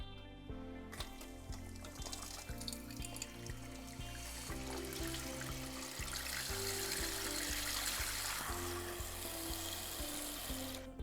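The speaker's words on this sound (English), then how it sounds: "I'm going to reach down and turn the water on." A toilet tank refills after the water supply is turned back on, with a faint, steady hiss and a whining tone from the fill valve continuing throughout.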